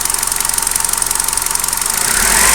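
A Hyundai i20 petrol engine idles with a steady, rapid rhythmic throb and vibration, close and loud, the pulsing rising into a denser rumble at the end.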